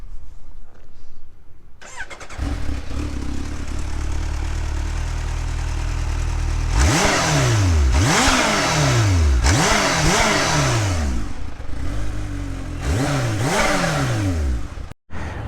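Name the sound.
Kawasaki Ninja H2 motorcycle engine starting and revving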